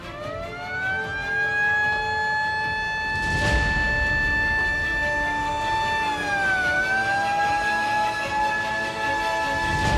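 A loud ambulance siren wails continuously with a steady, slowly shifting pitch, joined briefly by a burst of noise near the middle, with no talking.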